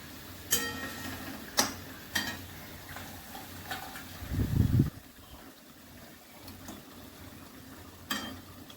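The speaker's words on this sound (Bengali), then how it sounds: "ঝোল ফুটতে শুরু করেছে আমি মাছগুলো দিয়ে দিচ্ছি" Fish pieces dropped into a boiling spiced fish curry broth in a home kitchen, a brief thick splash-and-sizzle burst amid scattered light clinks of a utensil against the pot, close and moderate.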